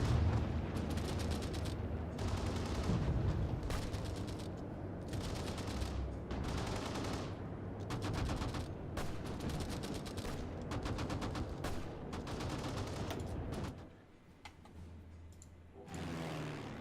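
Anti-air gunfire shooting down zeppelins in the Hearts of Iron IV Great War mod, dense rattling bursts and crackling volleys that keep going almost nonstop, then thin out briefly near the end before resuming.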